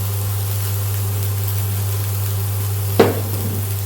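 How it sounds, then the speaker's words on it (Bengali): Pizza filling stirred in a pan, a low steady hum and faint sizzle with a single sharp scrape of a spoon against the pan near the end. "একটু নাড়াচাড়া করে নিচ্ছি।"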